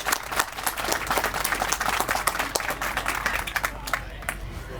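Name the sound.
audience applause at library grand opening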